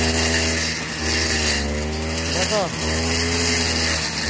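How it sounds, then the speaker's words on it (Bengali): A handheld grass cutting machine runs steadily through grass on a plot in Kochi, its engine whine droning loud and close while someone talks over it. "কীভাবে একা একা ঘাস কাটছি দেখো, এক হাতে কীরকম মেশিন চালাচ্ছি দেখো"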